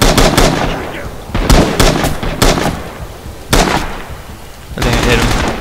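M1 Garand rifle fire in the Rising Storm video game, several sharp, loud shots in quick bursts with gaps between them, followed by a louder burst near the end.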